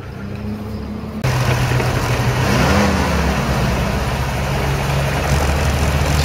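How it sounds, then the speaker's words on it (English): A tank's engine revs as it is driven, a loud, close, continuous low rumble that jumps up abruptly and then holds steady with slight rises in pitch. "Big Alex driving a tank."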